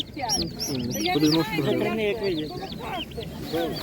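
A flock of young turkeys chirps and peeps continuously in a busy chorus at a livestock market, with people talking nearby in the background.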